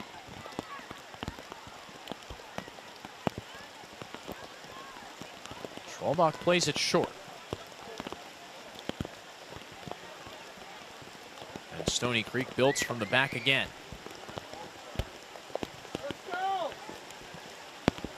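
Steady rain patters across an outdoor girls' high school soccer field during a match, a constant hiss with scattered drops, while a commentator talks over it at intervals.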